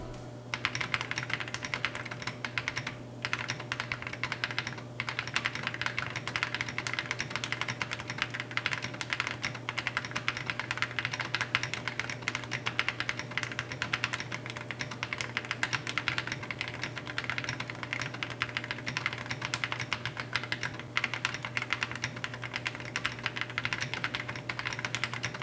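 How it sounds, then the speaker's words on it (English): Continuous typing on a Mellitrix Zoom 98 keyboard fitted with Keyboom Emerald switches, a dense steady stream of close keystroke clicks for the whole stretch over a constant low hum, with no talking. "Here's what the Mellitrix Zoom 98 sounds like with these Keyboom Emerald switches."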